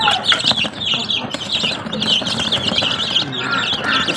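Baby chicks peeping and clucking steadily while pecking at a boiled egg, a busy chorus of high chirps close by with a person talking underneath.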